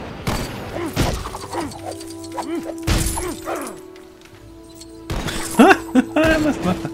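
Blunderbuss shots with recoil in Lego Worlds, several loud sharp blasts spaced a couple of seconds apart, each followed by clattering game effects and short tonal chimes.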